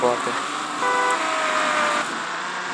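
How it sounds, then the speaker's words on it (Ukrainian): A car engine in the mobile video game Car Parking Multiplayer roars loudly and steadily, its whining tone shifting pitch as it revs, with a faint voice underneath. "Машина реве"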